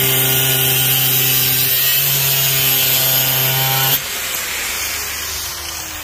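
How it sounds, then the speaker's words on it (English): An angle grinder cuts off a piece of standard steel conduit: a loud, continuous motor whine with harsh abrasive hiss. Partway through, the tone shifts abruptly and the cutting grind thins out, then runs on steadily. "So if you're cutting off pieces of regular standard conduit like this one"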